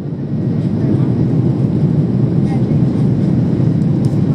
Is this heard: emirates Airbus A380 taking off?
yes